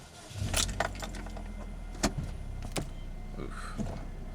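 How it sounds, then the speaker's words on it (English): A Chevrolet Cobalt SS is switched off with the key, with a jangling keychain, a few sharp clicks and a low steady hum inside the car. No talking. "Shut this car off real quick and just see what happens with this."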